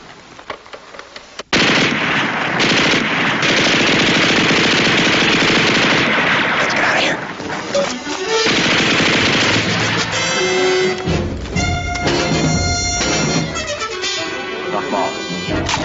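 In a war TV drama, machine gun fire erupts after a quiet moment and hammers on as a loud, continuous fusillade of rapid bursts, mixed with scattered shots and clatter.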